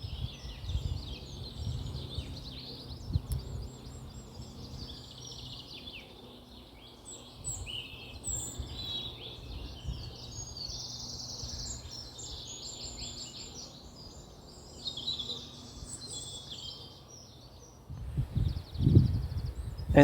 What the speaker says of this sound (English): The birds were greeting me with a full concert.